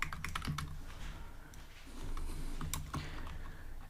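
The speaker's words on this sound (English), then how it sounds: "I'm gonna type here fun." Java code typed on a computer keyboard: a rapid, steady clatter of key presses, close and fairly quiet, running continuously with no talk.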